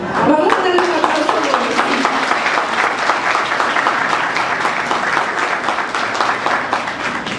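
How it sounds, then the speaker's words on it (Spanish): At a municipal ceremony recognising women entrepreneurs, an audience claps in a dense, sustained round of applause, loud and close from start to finish with some crowd murmur mixed in. "Vamos a darle un aplauso."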